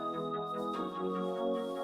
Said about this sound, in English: Just another little synth.